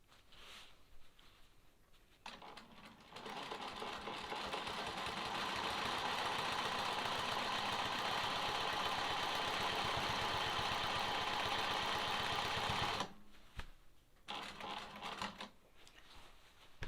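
A sewing machine quilts a sawtooth star quilt block, running in one long continuous stitching burst of rapid mechanical chatter, with short quieter stretches before and after it.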